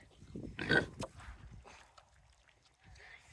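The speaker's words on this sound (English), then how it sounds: "our pigs are savages, so whoa, they're real excited" Excited pigs at feeding time as fermented feed is scooped out, with loud grunts and squeals bunched near the start, then quieter snuffling and oinking close by, and a faint voice underneath.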